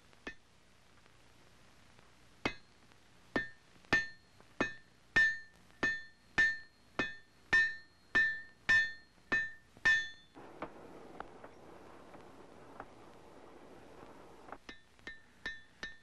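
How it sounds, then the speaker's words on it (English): A hammer forges an iron breech plug for a colonial-style gun barrel. A dozen evenly spaced, ringing metallic blows fall in a steady rhythm, pause during a quieter stretch, then resume in a quicker cluster, close and loud. "he forges an iron breech plug"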